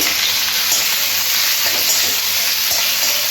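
Sliced onions frying in hot oil with bay leaves and whole garam masala while making Bengali-style kosha chicken curry: loud, dense, continuous close sizzle with a faint stirring texture, no talking.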